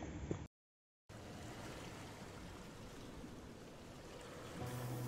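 Steady hiss of rain with wind through the trees at a mountain campsite on Merbabu, a constant broadband wash after a brief cut to silence near the start, no voices.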